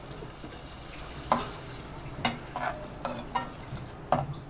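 Tamarind water goes into okra masala in a pan for vendakkai puli kulambu, bringing a soft constant sizzle with several sharp clinks and scrapes of a utensil against the pan, close and without talking.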